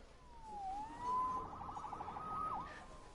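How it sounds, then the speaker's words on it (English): A police siren in the Spider-Man PS4 video game wails with rising and falling tones at a distance, faint and steady against a low background hum. "Saved by the siren."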